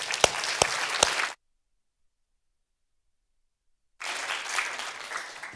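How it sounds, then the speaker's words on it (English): Audience applause fills a hall at a scientific conference, a dense clatter of many hands that breaks off into silence for several seconds and then resumes. "I think we should applaud him for what he's been doing already."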